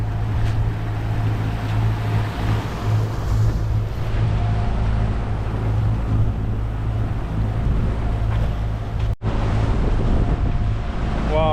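Steady wind roars past a sailboat running downwind at sea between Antigua and Barbuda, a continuous broadband rush with water washing along the hull and one brief dropout near the end.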